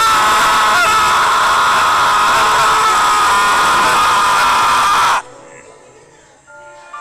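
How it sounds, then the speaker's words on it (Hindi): A man screams in grief as a horror story sound effect, a loud sustained wail that cuts off abruptly, followed by quieter faint background. "वहाँ अब रोहन की चीख थी"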